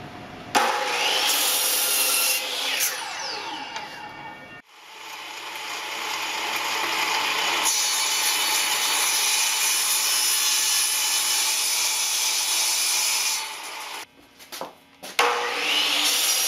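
Handsaw cutting a 2x6 wooden board down to height, steady back-and-forth strokes running continuously for most of the stretch, close and loud, with a brief pause before the sawing resumes and a few sharp knocks near the end.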